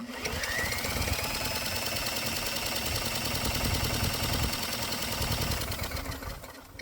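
A hot bulb semi-diesel lawnmower engine cranks steadily during a compression test with a stack fitted, a continuous fast rhythmic chugging held at an even, close, loud level throughout with no voices.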